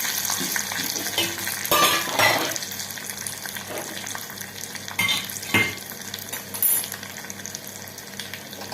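Curry leaves crackling and spitting in hot tempering oil, a close, bright sizzle with a few sharper bursts of spattering as the leaves hit the oil, alone without talk.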